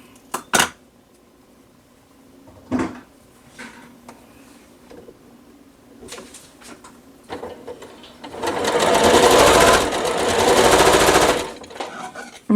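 Sewing machine stitching right-side-together pieces of a nine patch star quilt block: a few soft clicks and handling sounds, then a loud, steady whirring run of stitching lasting about three seconds, close up and with no voices.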